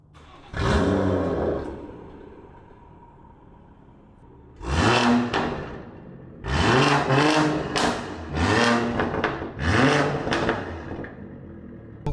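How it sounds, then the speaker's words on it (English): A car engine roars up in several loud revving bursts, each dropping quickly back toward a lower idle between them. "you'll hear the car roar up, but then shoot down immediately"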